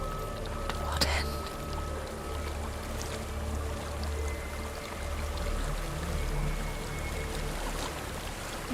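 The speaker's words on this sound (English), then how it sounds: "There's a waterfall." Waterfall in Hellblade: Senua's Sacrifice, a steady broad rushing roar of falling water filling the scene at constant loudness, with a faint knock near the start and no clear voices.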